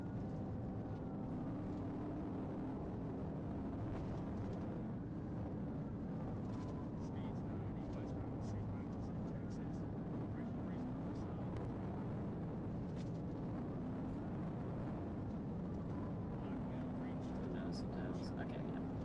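Loud, constant engine drone from a police car, heard as a close, steady low rumble and hiss that buries a quiet voice talking underneath.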